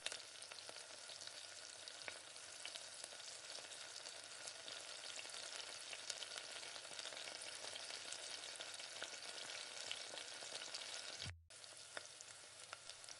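Tomatoes with mint and coriander sauté in a pan in a steady, close sizzle with soft stirring scrapes, continuous and unvoiced, cutting off abruptly near the end before resuming.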